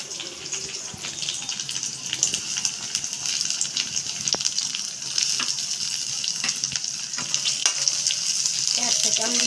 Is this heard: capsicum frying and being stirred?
yes